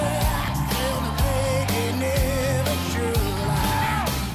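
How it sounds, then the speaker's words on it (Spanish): Rock singer's distorted scream during a blind audition on a singing competition stage, a loud, sustained raspy vocal held over dense, driving band music with drums and guitars throughout. "ya pasaron 2 segundos con ese grito inicial"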